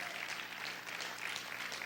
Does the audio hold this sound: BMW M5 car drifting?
no